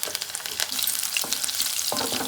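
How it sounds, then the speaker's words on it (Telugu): Dried red chilies and curry leaves with crushed garlic sizzle briskly in hot oil for a Telangana amaranth fry, a continuous close crackle with a few stirring knocks. "ఒక 2 పీసెస్ ఎండుమిర్చి, కొంచెం కరివేపాకు, అవి మంచిగా ఫ్రై అవ్వాలి"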